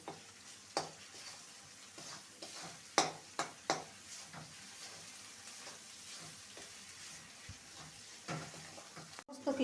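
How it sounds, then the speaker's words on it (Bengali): Mutton with turmeric and spices sizzles quietly in a pan while a spoon stirs and scrapes, giving scattered soft knocks over a low, constant frying hiss. "ভালো করে আবারও কষিয়ে নেব সমস্ত কিছু"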